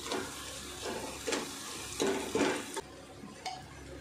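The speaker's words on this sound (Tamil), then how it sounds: "இதில் ஒரு கைப்பிடி கொத்தமல்லி, ஒரு கைப்பிடி புதினா, இது எல்லாத்தையும் நல்லா வதக்கலாம்." Coriander and mint leaves sautéed in a pot for mutton biryani, a low sizzle under several close spoon scrapes and stirring strokes.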